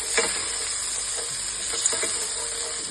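Ginger pieces sizzle in hot oil with a steady bright crackling hiss and a few soft pops, close up and alone without any voices.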